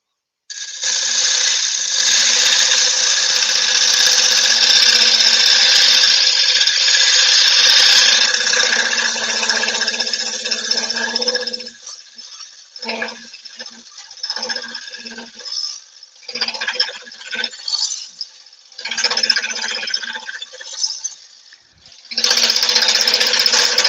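A carbide turning tool cuts laburnum wood on a lathe, a steady loud scraping hiss for about eleven seconds, then broken into bursts and gaps before returning strongly at the end.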